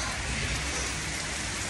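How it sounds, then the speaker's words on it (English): Heavy rain pours down on a tomato farm in a dense, constant hiss, loud and close, with no pauses or other sounds. "Oh my god, it's raining so hard."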